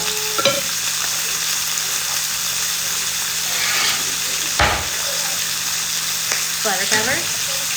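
Chicken browning in a frying pan under a splatter cover gives a loud, continuous sizzle throughout, with a few clatters and a brief voice near the end.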